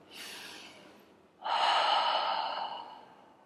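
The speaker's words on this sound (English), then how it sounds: "This is the spinal cord breathing." Deep qigong spinal cord breathing in a slow morning stretching routine: a soft inhale, a short pause, then a longer, louder exhale heard close and alone.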